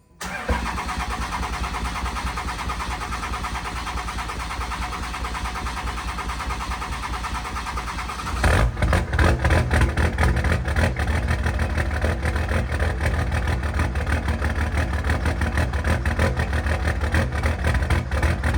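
A Cummins diesel truck engine cranks, catches and fires up after repairs, then settles into a loud, steady, rumbling idle that continues to the end.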